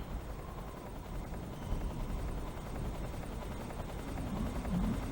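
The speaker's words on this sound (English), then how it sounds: "Oh, and I forgot there's a damn helicopter." A helicopter's steady rotor thrum in the video game Metal Gear Solid 3: Snake Eater fills the scene at moderate volume, a continuous low chopping drone with no voices.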